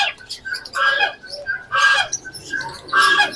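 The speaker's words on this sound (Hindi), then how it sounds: "ये देखें कितनी प्यारी प्यारी मुर्गियाँ" Several loud squawks and clucks from chickens in bursts, close by in a bazaar bird shop in Azad Kashmir, with chirping birds and pigeons in the background.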